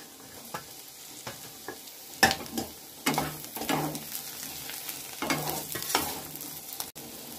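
Green chillies added to browning onions in a pan, with scraping stirs and bursts of sizzling that come in uneven clusters, close and fairly quiet, no talking.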